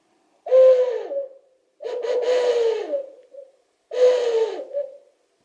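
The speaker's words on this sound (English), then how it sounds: "So you can blow in through here and the sound comes out there. You get a realistic owl sound." A carved wooden owl whistle is blown three times, each a breathy hooting note with a slight downward glide, separated by short silences and heard up close with no talk.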